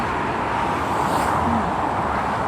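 Steady, dense daytime traffic rushes along a busy Stockholm expressway with an 80 km/h limit, a continuous near roar of tyres and engines with no pauses and no voices.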